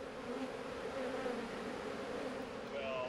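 Honey bees buzz steadily around an open hive during a beekeeping inspection, a dense continuous drone with occasional individual bees passing close by.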